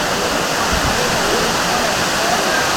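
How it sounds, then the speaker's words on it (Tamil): The Meenvetti waterfall on a mountain trek near Shenbagathoppu roars as a dense, steady wash of rushing water, loud and constant throughout with no break. "இங்கே பாருங்கள், மீன்வெட்டி வாட்டர் ஃபால்ஸு."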